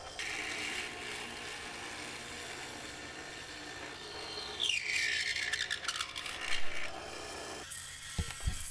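Mortiser running at 3,000 RPM and cutting a mortise into wood, a steady mechanical whir with harsh grinding and chattering bursts from mid-clip, then a sharp drop near the end.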